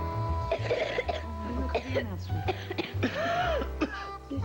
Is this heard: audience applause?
no